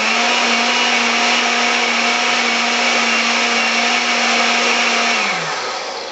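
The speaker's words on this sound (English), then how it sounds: "then I'm going to blend it for just a few seconds." Kitchen blender whirring loudly as it blends wet paper pulp for handmade paper, a steady high motor whine for about five seconds before winding down as it switches off.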